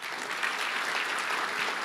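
An audience at a Rhode Island hockey hall of fame induction applauds the event staff with a steady, even wash of clapping that stays at moderate loudness throughout.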